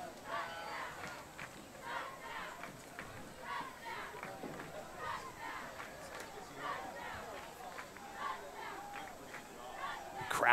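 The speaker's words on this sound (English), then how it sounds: "Crowd urging on the Blue Comets to score again." Football crowd cheering on the Blue Comets at a varsity game, a steady, distant roar of many voices with scattered shouts, running continuously under a commentator's talk.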